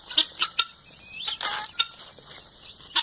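Guinea fowl keets call outdoors on a farm, a few short, high chirping peeps in quick bursts, faint and somewhat distant over a quiet background.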